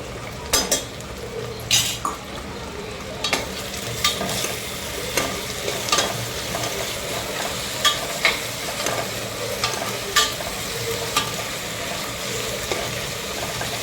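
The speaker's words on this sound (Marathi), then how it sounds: "हे अद्रक लसणाची पेस्ट आणि मिरची पण टाकले होते मी" Ginger-garlic paste and crushed green chillies fry in a pan for egg masala rice, a steady close sizzle broken by repeated scrapes and clinks of a spoon stirring against the metal.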